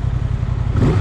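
A Honda Transalp 750 motorcycle engine runs with a throbbing, pulsing low idle that briefly swells into a short rev, close and fairly loud, over about one second.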